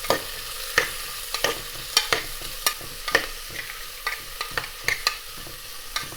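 Lamb and onion curry stirred in a pan: a soft steady sizzle with repeated scraping spoon strokes in an uneven rhythm, close and moderately loud, no talking.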